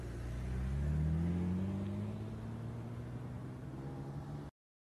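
A car driving, its engine a steady low drone with a rising pitch as it speeds up, heard from inside over broad road noise.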